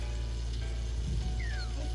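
French toast dipped in mixed egg sizzles in a pan in the Cooking Mama video game, a steady, even frying hiss at moderate level with a faint rising electronic chirp.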